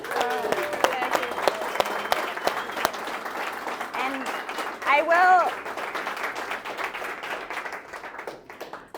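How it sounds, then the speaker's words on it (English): Audience applause for a speaker at a talk, many hands clapping steadily with a voice speaking over it and a brief louder burst midway before fading. "let's give Marcie a big round of applause"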